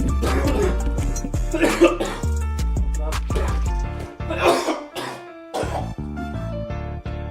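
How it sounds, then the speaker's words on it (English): Repeated harsh, heavy coughing fits with throat-clearing, loud and close, over background music. "Coughing hard as a bitch."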